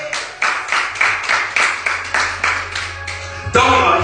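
A church congregation at a Sunday morning missions service claps together in a steady rhythmic beat, about two claps per second, loud and filling the room, ending in a broader burst of applause.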